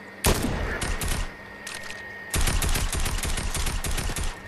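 Rapid automatic gunfire from long-range shooting in the video game Fortnite, loud and dense, with a sharp opening burst followed by a long sustained volley, heard alone without talk.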